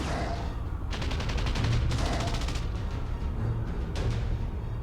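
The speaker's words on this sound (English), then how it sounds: "soon the air is filled with the sound of rapid gunfire and infected groaning." Rapid bursts of automatic gunfire crackle in a zombie video game, several dense volleys in quick succession over a steady noisy din.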